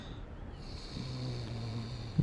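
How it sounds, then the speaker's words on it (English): Snoring from a sleeping creature in the Dark Souls video game, a steady, close, droning snore with a raspy breathy texture. No one speaks. "Where's the snoring coming from?"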